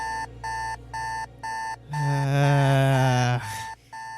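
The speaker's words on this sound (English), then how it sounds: "your alarm going off" An alarm clock in the game Whispering Ashes 2 rings in four evenly spaced electronic bursts, loud and close, followed by a longer sustained tonal sound that cuts off abruptly.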